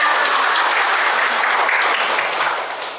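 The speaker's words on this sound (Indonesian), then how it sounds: "tepuk tangan" A room full of people claps steadily and loudly for a few seconds, the applause tapering slightly at the end.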